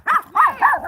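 A small dog barks three times in quick, even succession, sharp yappy barks heard up close with no talking over them.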